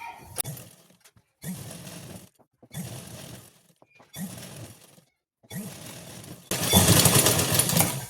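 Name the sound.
sewing machine stitching a blouse neckline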